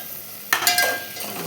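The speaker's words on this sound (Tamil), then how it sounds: "நல்லா வதக்கி கொடுத்துக்கலாங்க" Tomatoes and onions sautéing in a pan for tomato rice: a steady background sizzle, then a brief burst of stirring scrapes partway through.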